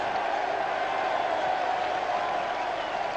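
Cricket crowd cheering and applauding a century by Nasser Hussain during the 1997 England versus Australia fourth Test, a steady, dense wash of distant stadium applause with no break across the stretch.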